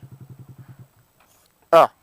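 A motorcycle pulls away on the clutch alone with no throttle, giving a quick run of low, even putters that fade out within a second as the engine stalls, followed by a short loud burst.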